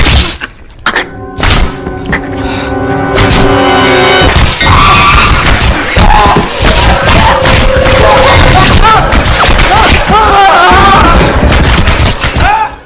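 Several loud gunshots ring out in a horror film scene, a woman possessed by an evil spirit firing a gun at a man, with sharp bursts spread across the scene amid crashes, music and dramatic sound effects.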